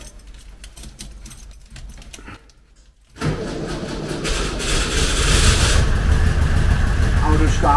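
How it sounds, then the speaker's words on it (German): A Volkswagen Karmann Ghia Type 34 under restoration, with a formerly faulty engine, starts up: faint clicks and jangling, a brief crank after a pause, then the engine catches and settles into a loud, steady close-up idle. "Auto startet."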